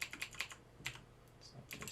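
Close, crisp keystrokes on a computer keyboard while Java code is entered, coming in quick uneven bursts with brief pauses between them.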